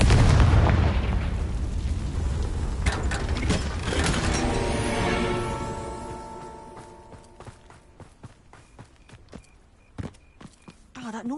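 Confringo blasting spells in Hogwarts Legacy set off a loud rumbling explosion that decays into a long ringing magical tail, followed by scattered sharp clicks and small impacts, with a voice speaking over it.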